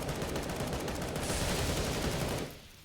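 Galil rifle fire in a CS:GO match, heard as dense, continuous loud rattling of shots running for over two seconds before tapering off quickly.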